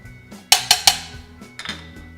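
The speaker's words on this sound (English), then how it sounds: "Meanwhile, I'm going to turn my pan on, a little bit of butter." A frying pan is set on a stove to melt butter. Three sharp metallic clanks come close together, then softer knocks and clinks follow.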